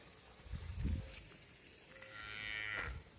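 A calf bawling in a corral on a cattle farm, two drawn-out moos at moderate distance against quiet outdoor background, with no talk.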